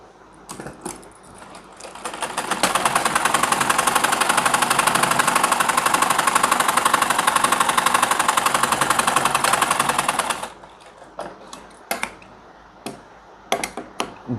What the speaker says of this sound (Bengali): এখান থেকে সেলাইটা দিয়ে দিব।